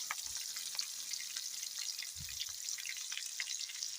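Red chilies fry in hot oil, giving a faint, steady crackling sizzle with a couple of soft low thumps.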